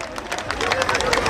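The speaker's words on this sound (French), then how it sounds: "On applaudit tout le monde" A crowd applauds the newly presented carnival queen at the corso parade in Bourg-Saint-Andéol, a dense, steady patter of many hands clapping outdoors with no pause across the short stretch.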